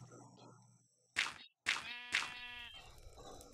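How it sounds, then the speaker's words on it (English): Sheep bleating in the video game Minecraft, two or three short wavering bleats in quick succession over quiet game background, close and clear. "Hi, Mr. Sheep."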